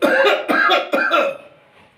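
Three harsh coughs in quick succession, close and loud, fading into a faint trailing breath.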